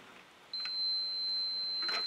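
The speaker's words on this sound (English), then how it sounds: "So when we have continuity, you'll hear it beep." A multimeter in continuity mode beeps while testing a coffee brewer's magnetic float switch: one steady, high electronic tone starts abruptly and holds for about a second and a half, clear and alone against faint background hiss.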